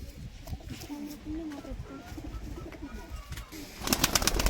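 Pigeon in a rooftop loft cooing in soft repeated phrases, with people talking nearby and a burst of rustling or flapping near the end.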